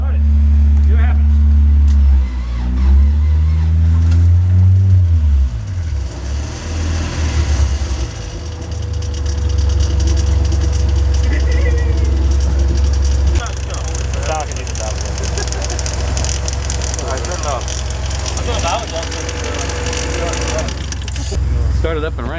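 A Honda B20 VTEC engine fitted into a car cranks, catches and settles into a deep, loud idle with low rumbling and fluctuating revs, while people talk nearby throughout.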